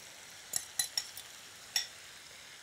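Egg goes into a hot pan for an omelette, giving a faint sizzle broken by a few sharp utensil clicks and taps against the pan.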